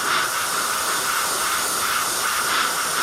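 An airbrush sprays a smooth coat of paint onto a catcher's mask in graffiti style, giving off a steady, close, unbroken hiss that holds at an even level the whole time.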